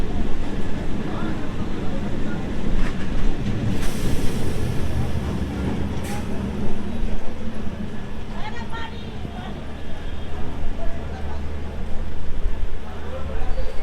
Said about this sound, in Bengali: শিয়ালদা লোকাল 2 নম্বর প্ল্যাটফর্মে আসছে।